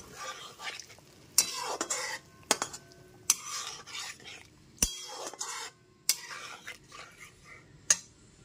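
Pea lentil paste being stirred into a ridge gourd curry in a pan, bursts of scraping and clinking utensil strokes against the pot, separated by short pauses, over light sizzling.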